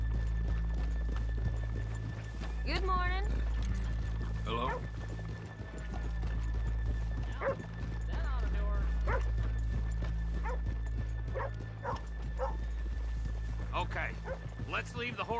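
Rhythmic horse hoof clip-clops in Red Dead Redemption 2, in the town of Valentine, heard under a steady background hum with a dog barking and some muffled voices.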